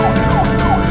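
A cartoon-style U.S. police car siren wails loudly in rapid repeating sweeps, several quick rising and falling cycles in under a second, with no voices.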